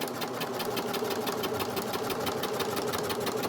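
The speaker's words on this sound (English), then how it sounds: "it's gonna stitch that 1/8 top stitch." A sewing machine top stitches an eighth-inch seam along a mini credit card wallet, a steady, rapid mechanical chatter of needle strokes running evenly throughout at close range with no talking.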